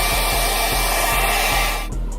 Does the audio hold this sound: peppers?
no